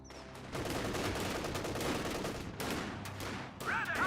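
Riflemen pour rifle fire into a Kubelwagen in the World War II strategy game Company of Heroes 2, a dense, continuous crackle of overlapping shots with a few sharper bursts, loud and steady throughout.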